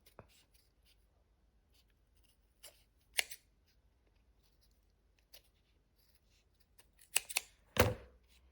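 Scissors cut material for a handmade craft gnome, giving sparse, faint snips spread over several seconds, with a few louder cuts near the end and no talk.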